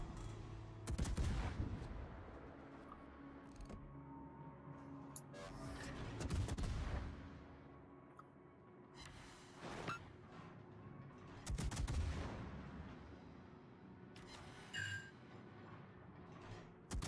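Warship gunfire in the World of Warships PC game, several loud booming salvos spaced a few seconds apart, each with a rolling rumble and distant echoing blasts between them.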